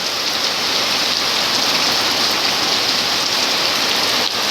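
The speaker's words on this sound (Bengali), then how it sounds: "ভালোই জোরে বৃষ্টি হচ্ছে।" Heavy rain pours down in a steady, dense hiss on surfaces, loud and unbroken throughout.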